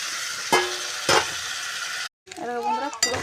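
Pasta frying in hot white oil sizzles with a steady hiss, punctuated by a couple of sharp clatters before a short gap, then the sizzle returns under a voice speaking.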